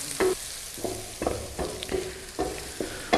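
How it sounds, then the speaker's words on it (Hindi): Ginger garlic paste frying with onions for keema, a moderate sizzle broken by regular spoon scrapes and stirs, about one stroke every half second. "अब हम इसमें लहसुन अदरक का पेस्ट डाल देंगे। 1 टेबलस्पून है हमारे पास। इसे 1 मिनट के लिए पका लेंगे"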